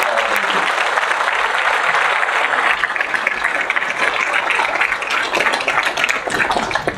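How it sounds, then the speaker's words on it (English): Audience at a Rotary meeting applauds loudly and continuously, dense clapping from many hands sustained throughout without a break. "So let's give them a huge round of applause and thank them for all"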